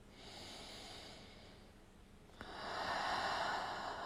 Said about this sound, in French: On inspire par le nez. Expire par la bouche.